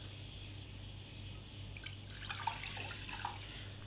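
Water is poured into a pot to make broth for pempek, a soft trickle and splash that starts partway through over a low steady hum, faint and close.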